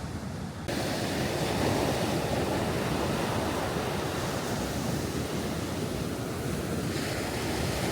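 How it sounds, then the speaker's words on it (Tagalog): Ocean waves wash onto the beach in Busan, South Korea, a loud, steady roar of surf with wind buffeting the microphone, continuous throughout with no voices. "tapos titingnan mo ang alon"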